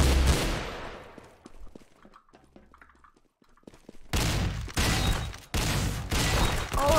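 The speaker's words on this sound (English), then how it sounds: "Oh, not bazooka. This is a big launcher." A big launcher weapon fires in a shooting video game, with loud explosive blasts at the start and a series of heavy, roaring bursts in the final seconds after a quieter stretch of scattered clicks.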